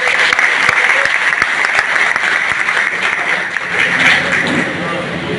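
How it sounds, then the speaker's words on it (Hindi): Loud, sustained applause from a gathering of around 150 members of the Khurja Agrawal Samaj Samiti, welcoming the winning candidates of the society's election in Bulandshahr, with dense steady clapping and some crowd murmur throughout. "विजयी प्रत्याशियों के लिए एक बार जोरदार ताली से स्वागत।"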